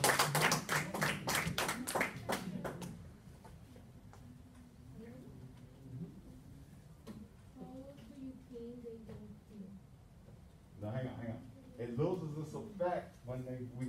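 An audience claps in a quick, dense burst of applause that dies out after a few seconds, and a person then talks over a quiet room with a brief patter of clapping returning near the end.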